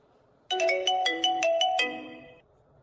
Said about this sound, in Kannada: ಯಾವ್ದೋ ಫೋನ್ ಬಂತನ, ತಡಿವಾ ನೋಡ್ತೇನೆ